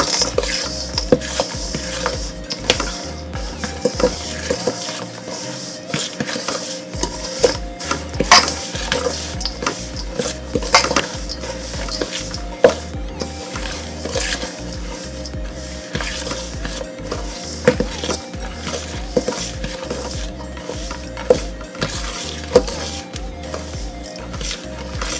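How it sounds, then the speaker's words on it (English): Dry bread ingredients with wheat bran are stirred in a bowl for a honey pineapple bread, a close, continuous run of scraping and clinking strokes against the bowl in a steady rhythm. "1 cup of wheat bran, gonna mix all these dry ingredients together."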